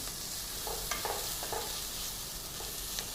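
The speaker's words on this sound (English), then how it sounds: "We'll saute this for just about a couple of minutes" Cashew pieces, cumin and coriander powder sauté in a pan for white gravy, a soft continuous sizzle broken by a few light stirring scrapes, with no voices.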